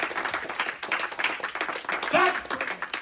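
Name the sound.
church congregation clapping in praise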